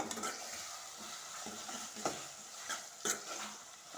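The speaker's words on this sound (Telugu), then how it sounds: "నూనె అయితే మంచి గోలిపోయింది టమాటాలు ఒకసారి కలుపుకుందాము" Tomatoes stirred into hot oil in a pan while cooking brinjal curry: a steady sizzle and fry throughout, with several sharp scraping stirs of a utensil against the pan, close and without talk.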